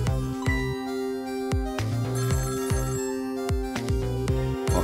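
A phone rings in the Ghost Trick: Phantom Detective video game, with a repeating electronic ringtone of bright tones pulsing several times in a steady rhythm over a low, looping musical backdrop.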